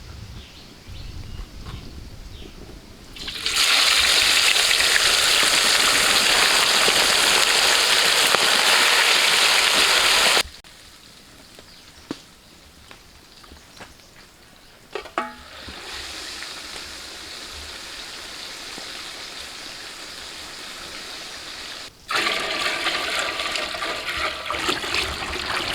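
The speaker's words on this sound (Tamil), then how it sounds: "மீனை பாதி வேகிற அளவு பொரிச்சு எடுத்துக்கலாம்." Pomfret fish fries in hot oil for a biryani, a loud, dense sizzle that roars for several seconds, settles into a softer steady crackle, then swells again near the end.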